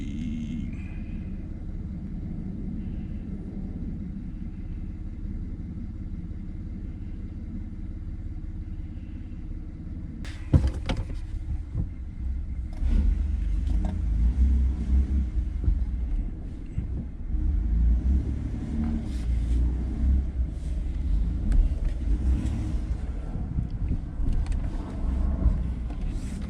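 A 2016 Ford F-150 truck with the 2.7 EcoBoost engine, just repaired, idling steadily before pulling away on a test drive, with a low continuous engine rumble that grows louder and rougher as it moves.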